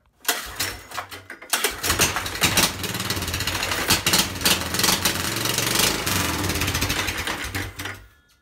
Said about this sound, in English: make sure that pump works, and at least hear it run one time with that exhaust